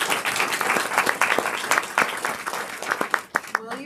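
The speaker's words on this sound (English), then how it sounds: "Yes, you can clap." An audience at a food-waste panel discussion applauds with brisk, scattered clapping that fills the room at moderate loudness for a few seconds, with a voice briefly audible near the end.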